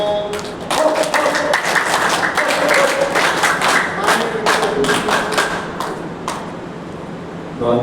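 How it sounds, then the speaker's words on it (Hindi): An audience at a family gathering breaks into strong applause to welcome a speaker, with dense clapping and thuds that hold for several seconds before tapering off. "जोरदार तालियों से उनका स्वागत।"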